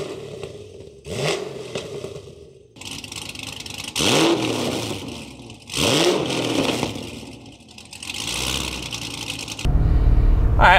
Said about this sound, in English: this is with the exhaust closed running through a muffler. Still sounds good, but a lot quieter